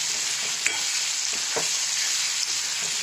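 Tomatoes and other chutney ingredients roast and sizzle in oil in a pan, a steady close frying hiss with occasional soft stirring scrapes and taps throughout.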